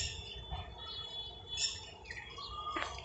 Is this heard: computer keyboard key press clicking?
no